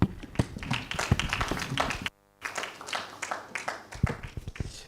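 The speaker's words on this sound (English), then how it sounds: "Please, let's clap for her." An audience claps for a graduate trainee at a company graduation ceremony, with brisk, overlapping clapping, a short silent gap partway through, and then the clapping resumes just as thick.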